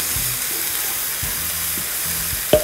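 Meat and peppers stir-fry in a pan with a steady hiss of frying, several short scrapes of a spatula, and a sharp clack at the end.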